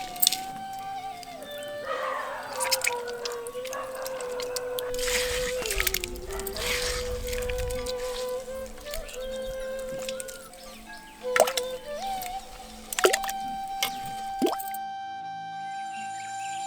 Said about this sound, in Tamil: இப்ப நம்ம எடுத்து வச்சிருந்த தக்காளி கூட கல்லுப்பு சேர்த்து நல்லா பிழிஞ்சு எடுத்துக்கலாம்